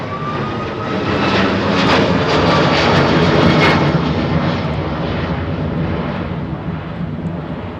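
A jet aircraft, an F-35B, roars through a flying display at the Farnborough International Airshow, a loud, broad rumbling roar that swells, peaks and then slowly eases as it passes.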